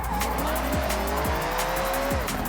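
A game car in Forza Horizon 6 drifts through a 360 spin, tires squealing in a long sliding whine over a steady engine drone, loud and close with no talk.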